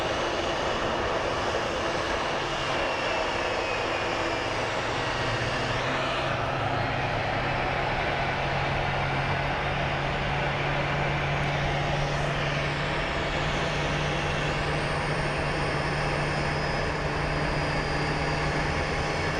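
Jet aircraft at Phoenix Sky Harbor International Airport, a continuous loud engine roar and whine rising and shifting as a plane moves past, with no talking.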